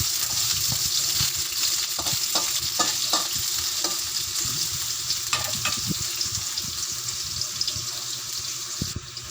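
White onion sautés in a hot pan while pork with broccoli is cooked, with a steady close sizzle and frying hiss, broken by intermittent scrapes and clinks of stirring.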